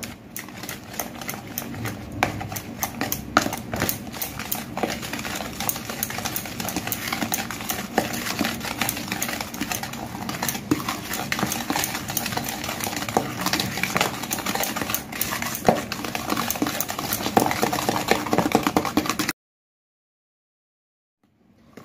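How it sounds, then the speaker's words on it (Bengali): Cake batter with blender-ground powdered sugar is beaten with a hand whisk for a chocolate cake, giving a fast, continuous run of close clicking and tapping strokes that stops abruptly into silence. "আমি এটা হ্যান্ড উইচ থেকে এবার এটা গোলাবো।"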